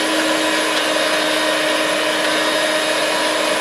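A mixer grinder grinds onion, garlic and tamarind for onion chutney, a loud, steady whirring drone that runs unbroken the whole time with no talk over it.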